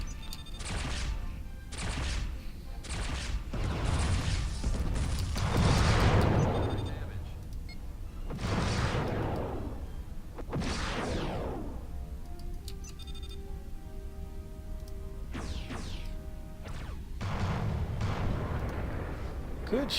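Ship weapons firing on a Klingon vessel in Starfleet Command: Orion Pirates, a run of loud booming blasts and crashing impacts in bursts, with quieter stretches of electronic tones between volleys.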